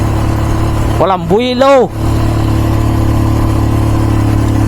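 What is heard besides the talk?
motor vehicle engine labouring uphill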